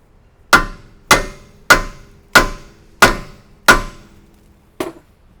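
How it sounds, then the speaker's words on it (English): Hammer striking a tie rod end on a BMW during a steering repair, six loud evenly spaced metallic blows followed by a seventh lighter one, each ringing briefly before fading. "shock the end with a hammer, and that should allow this to pop free with the tension on it"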